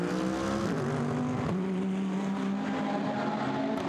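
GT race cars accelerate out of the first chicane at Monza, a loud, close engine roar with a gear-change blip and climbing pitch, no talk heard.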